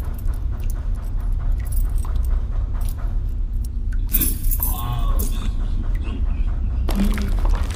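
Keys jangle in the horror video game The Cursed Tape, a few brief metallic clinks and rattles standing out over a low, steady ambient drone.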